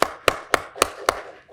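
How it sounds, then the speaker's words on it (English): Clapping at a college of pharmacy hooding ceremony: five crisp, close hand claps in an even, evenly spaced rhythm, sharp and isolated against quiet. "Big round of applause for them"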